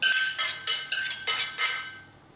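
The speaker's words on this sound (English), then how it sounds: "And I'm going to give that a stir around." A spoon knocking and scraping against a metal pan while green beans are stirred into kedgeree, about seven bright, close clinks in a loose rhythm that trail off at the end.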